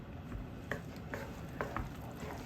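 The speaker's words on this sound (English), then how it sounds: "we're just going to give that a stir" Parsley and lemon zest stirred into garlic shrimp orzo in a single pan, with soft scraping and a few light clinks rising above a quiet, steady background.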